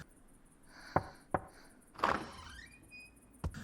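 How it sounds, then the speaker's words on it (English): A door sound effect from an anime episode (Talentless Nana): sharp clicks and knocks, a sliding scrape and a rising squeal, ending with a final click, all fairly close with no talking. "That door sound effect again."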